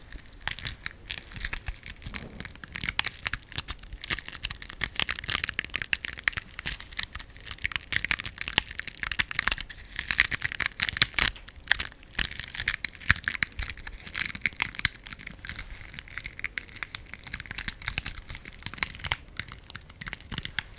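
Close, continuous scratchy bristle rubbing, a dense crackling brush sound that keeps going steadily with no talking.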